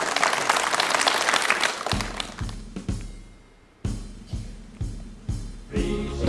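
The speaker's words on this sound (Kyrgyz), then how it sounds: "кол чабуулар" A studio audience at a televised talent show claps loudly for about two seconds, then the applause gives way to a series of heavy, regularly spaced booming beats.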